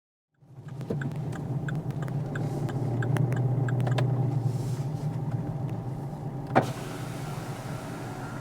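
Steady low rumble of a car interior at rest or idling, with faint electric whirring and a brief sharp thump near the end; no one speaks.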